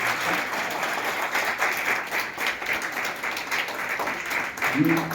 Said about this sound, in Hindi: आइए जरा एक बार जोरदार तालियां इनके लिए